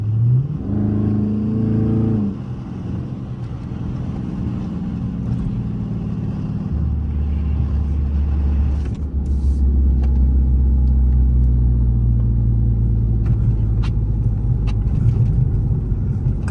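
A Dodge Charger's exhaust with a fixed drone rumbles deep and loud from inside the car, rising in a revving pull with shifting tones, then settling into a steady heavy low drone.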